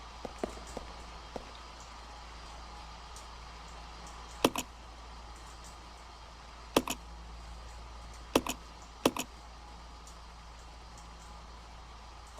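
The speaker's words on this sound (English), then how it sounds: "looks like a typewriter." Typewriter in the Resident Evil 0 video game, heard as a few sparse, sharp clacks, some in quick pairs, over a steady low hum, faint and with no talk.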